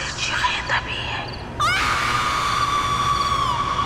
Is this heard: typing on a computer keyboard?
no